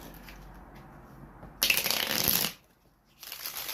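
Tarot cards are shuffled up close: a quiet papery rustle, then a loud crisp riffle lasting about a second, a brief pause and a second riffle beginning.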